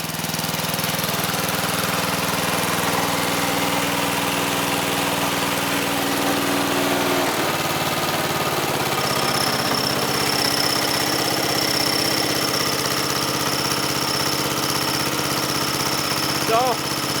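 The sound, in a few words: Wizard riding lawn mower engine idling after cold start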